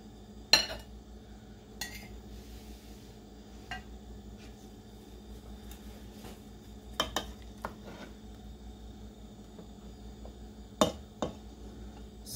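Rice and food being served onto a plate, with sharp clinks of a spoon or utensil against dishware at scattered moments over quiet kitchen background.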